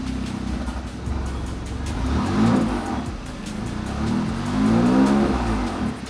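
An Audi engine with major damage idles and revs gently in waves, its low rumble slightly uneven with a faint misfire stutter, close by.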